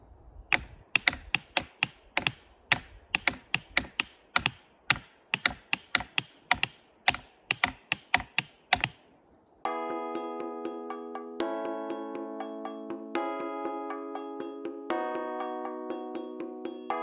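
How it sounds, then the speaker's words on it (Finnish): Tapped five-against-four polyrhythm, right hand playing five beats against the left hand's four: a steady run of crisp percussive taps, then a repeating pitched, bell-like pattern with the same layered rhythm, no talking. "Eli nyt otetaan oikeaan käteen viisi iskua samassa ajassa kuin vasen käsi soittaa neljä iskua."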